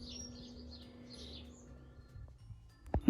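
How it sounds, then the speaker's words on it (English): A small wild bird in a garden gives a few faint, brief high chirps near the start over quiet outdoor hum, and a sharp knock lands at the very end. "There's a out of scale bird near the lighthouse."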